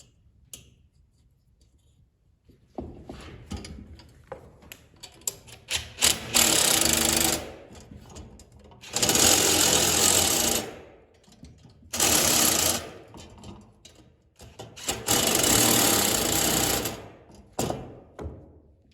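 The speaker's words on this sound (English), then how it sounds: "right now I'm just running them down with the small impact just to get them snugged down" Small impact wrench running down bolts on a John Deere sickle mower, several loud rattling bursts of a few seconds each with brief gaps, close up, alone without talk.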